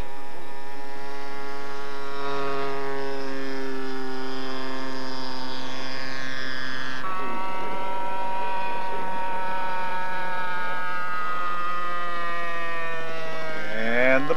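A scale radio-controlled A1H model plane's 35cc Weber Bully two-cycle engine drones loudly and steadily at takeoff, its pitch shifting once midway and climbing again near the end.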